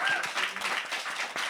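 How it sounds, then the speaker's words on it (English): A brief burst of audience applause for a panel of DJs at a climate action event, scattered hand claps at moderate distance lasting about a second and a half. "let's give a round of applause to all our panelists."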